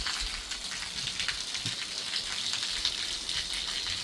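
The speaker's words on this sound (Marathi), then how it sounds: "भर दुपारी रणरणत्या उन्हात पडणारा हा पाऊस" Rain falls during bright afternoon sunshine with a dense, even hiss of drops striking the ground and leaves nearby, steady and unbroken for several seconds with no voices.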